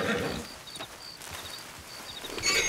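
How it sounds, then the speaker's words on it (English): A thoroughbred horse in Red Dead Redemption 2 gives a soft neigh and a few light hoof clops, close but quiet, with a brief louder snort or whinny near the end. "It's a thoroughbred."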